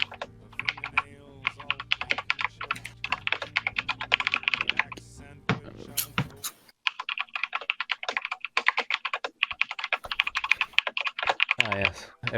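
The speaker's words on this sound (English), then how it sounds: "Ah, yes. Everyone typing." Several people typing on computer keyboards, dense overlapping rapid key clatter that pauses briefly midway and resumes, close and clear, with a steady hum underneath at first.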